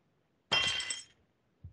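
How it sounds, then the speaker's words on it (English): Window glass shattering in one loud burst, a bright crash that rings and fades over about half a second, followed by a brief low thump. "I hear glass breaking."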